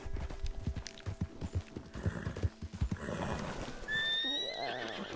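A horse in the video game Red Dead Redemption 2 whinnies loudly over rapid clip-clopping hooves, with a long shrill neigh rising near the end.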